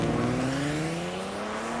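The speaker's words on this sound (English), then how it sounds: "The new 375 horsepower Hyundai Genesis can go from 0 to 60 faster than a Porsche Boxster." A 375-horsepower Hyundai Genesis accelerates hard, its engine note rising steadily in pitch as it pulls away, loud and close.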